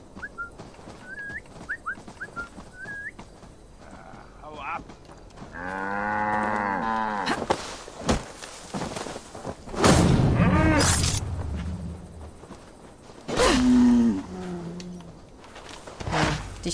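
A cow moos loudly nearby amid game-like sounds in Assassin's Creed Valhalla, with a few high whistled tones at the start and scattered thumps and noises afterward.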